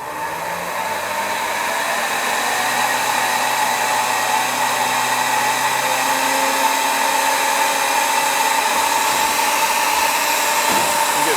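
A Gorilla carpet extractor machine runs with a steady, loud whirring hum of motor and pump that holds constant throughout, alone without talk.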